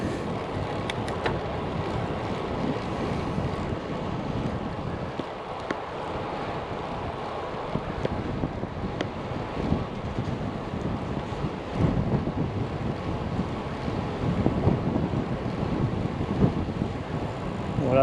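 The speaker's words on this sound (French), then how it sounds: "Beaucoup de vent en ce moment, c'est vraiment infernal." Constant wind buffets the microphone beside Lac Kir in Dijon, a rough low rumble with gusts throughout and no voices.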